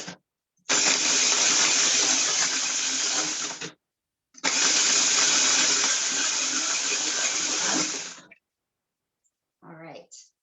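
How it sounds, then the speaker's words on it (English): A small 3-cup blender whirs loudly through a lemon mocktail in two steady bursts of about three seconds each, with a pause between, then stops before a brief voice at the end. "I'm just going to blend this."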